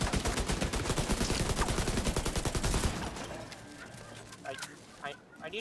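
Rapid, dense gunfire rattles loudly for about three seconds in The Division 2, then gives way to scattered quieter shots and movement while a voice talks over it.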